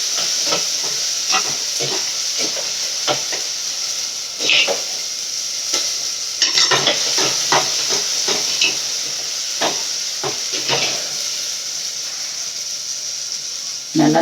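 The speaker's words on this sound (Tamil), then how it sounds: "குழம்பு பொரிக்குது" Tamil fish curry (kuzhambu) of ground spice paste sizzling and frying in a pan, a steady close hiss broken by repeated crackling spatters and brief stirring scrapes, with no talk over it.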